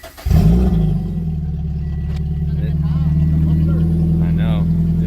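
A Toyota 86 engine fires up and runs through an open header after a clutch and flywheel install, a loud raspy idle that settles into a steady throbbing drone up close while a person talks over it.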